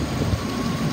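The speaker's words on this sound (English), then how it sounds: "Motor sounds good." A 2002 Dodge Ram Van 3500 with 90,000 miles, a former school-board maintenance vehicle, idles steadily with an even low mechanical rumble and a faint hum, close by with no talk.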